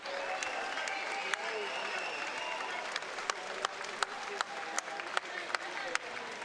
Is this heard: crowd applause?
yes